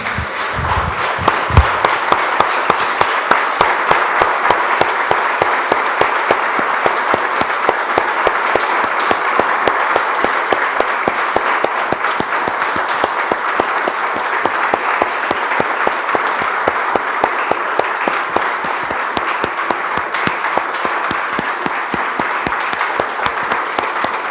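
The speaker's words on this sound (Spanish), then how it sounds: "Damos un aplauso, hermanos, al Señor." A church congregation claps for the Lord after a Spanish-language prayer, a long, loud, continuous round of applause that holds steady throughout, with a few lower thumps near the start.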